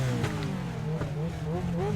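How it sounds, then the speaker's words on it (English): Nascar Legends race car engine in the iRacing sim at Charlotte revving steadily with rising and falling pitch, a continuous near drone with voices talking over it. "Revving the engine a little bit."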